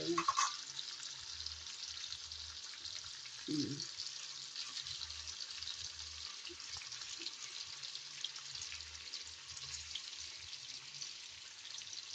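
Food fries in a pan with a steady, soft sizzle and hiss that runs unbroken throughout, fairly quiet, with a few faint kitchen knocks underneath.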